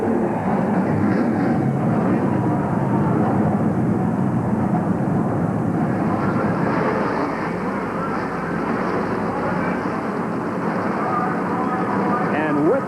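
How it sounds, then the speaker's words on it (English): Twenty-eight NASCAR Busch Grand National cars fire their engines together at Indianapolis Raceway Park's 5/8-mile oval in 1992, a dense, steady roar that fills the whole stretch with a commentator talking over it. "28 cars fire to life as we get set to go racing"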